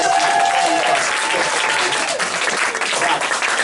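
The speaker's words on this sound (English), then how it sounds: "give them both a round of applause for staying out" An audience at an arts panel and performance event applauds: loud, dense clapping from a crowd, sustained through the whole stretch and fading slightly near the end.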